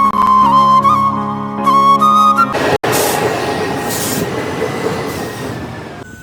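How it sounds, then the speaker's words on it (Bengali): A passenger train pulls into a platform and stops, opening with a loud high metallic squeal and whine of wheels and brakes before settling into a heavy rumbling rush of carriages close by. There is no speech. "ট্রেন দাঁড়িয়েছে"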